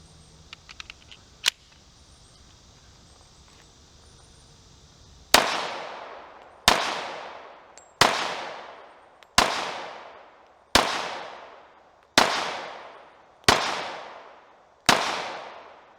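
A Tisas Raider pistol fires during ammo testing: eight sharp, loud shots at an even pace, each followed by a ringing decay. Faint handling clicks come before the first shot.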